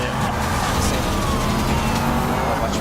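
A car engine from the video game Need for Speed Rivals roars steadily and loudly, a dense continuous drive sound with road noise and no breaks.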